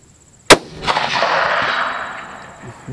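A single sharp rifle shot from a Ruger Predator in 6.5 Creedmoor, fired at a distance target through grass, cracks loudly and then rolls into a long, fading echo across open ground.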